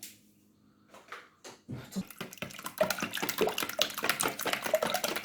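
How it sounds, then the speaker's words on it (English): Whisk beating Jamaican black fruit cake batter in a bowl, a rapid run of close, clattering strokes that starts sparse and builds into steady, busy scraping. "so we're going to whisk this now"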